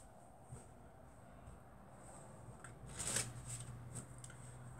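Playing cards are handled and put away during a close-up card magic routine, giving a soft brief riffle and shuffle burst midway over a quiet room hum, fairly near and low in level with no talk.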